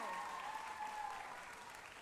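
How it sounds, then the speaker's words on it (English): Steady applause from an audience at a high school volleyball match, even and sustained throughout, heard from some distance with no voices over it. "Give them a round of applause."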